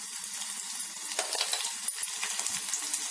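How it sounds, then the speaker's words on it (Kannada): Mustard seeds splutter in hot oil with a spoonful of ghee, giving a steady close sizzle broken by scattered sharp pops and crackles. "ಸಾಸಿವೆ ಸ್ವಲ್ಪ ಚಟಪಟ ಅಂದ ತಕ್ಷಣ ಬೆಳ್ಳುಳ್ಳಿ ಹಾಕೊಳ್ಳಿ"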